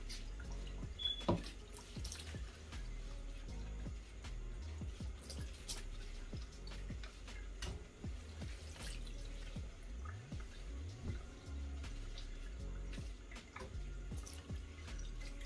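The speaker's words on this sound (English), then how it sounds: "After washing the chicken with cold water" Cold tap water runs and splashes over raw chicken thighs as they are washed, a soft close trickle with scattered drips and clatters at a fairly low level, with no voices.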